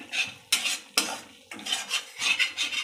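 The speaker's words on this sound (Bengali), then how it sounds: "মশলাটা আমার ভাজা হয়ে গেছে, এই দেখেন তেল বেরিয়ে গেছে মশলাতে।" A spoon scraping and stirring frying spice masala in a pan, several sharp scrapes in an uneven rhythm over a faint sizzle, close and alone.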